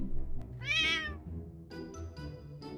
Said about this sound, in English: There was a cat inside our house, but he just jumped out through the window.